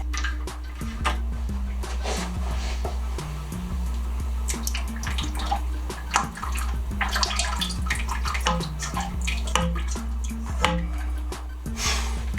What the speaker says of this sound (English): Next thing I'm going to do is simply drain all the oil.